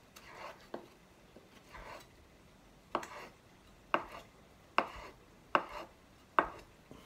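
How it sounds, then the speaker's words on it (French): A kitchen knife chopping mozzarella into small pieces on a cutting board, a series of crisp, close taps that start sparse and settle into a steady rhythm of sharp knocks, with no talking. "Que je vais couper en petits morceaux"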